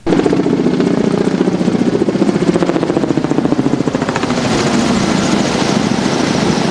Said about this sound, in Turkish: yangın söndürme helikopteri olay yerine çağrıldı